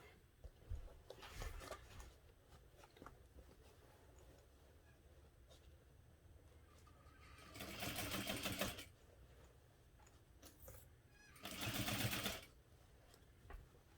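A sewing machine stitches a backpack seam, running in two longer loud bursts and a couple of short ones, with quiet handling noise in between and no talk.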